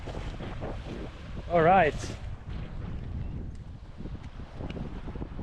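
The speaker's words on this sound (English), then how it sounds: "the wind is crazy here, so I hope you can hear me as I speak" Strong wind buffets the microphone on a small rocky island in the Baltic Sea, a steady roaring rush that runs the whole time under a voice, with a brief louder gust in the middle.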